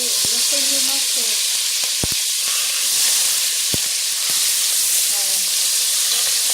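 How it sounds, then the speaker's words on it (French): A marinated piece of sea bass with ginger and galangal sizzles in very hot oil in a pan, a loud, steady hiss and crackle with a few faint voice fragments underneath. "Ça tombe quand l'huile est très chaude. J'ai mis le premier morceau."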